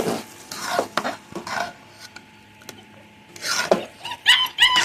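A spoon stirs vegetarian bhog khichuri in a pot, scraping and clinking against the metal in uneven bursts close by, with quiet pauses between strokes.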